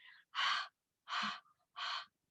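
Three loud, close breathy gasps come in a steady rhythm with short silences between them, a voice imitating hard breathing after running fast.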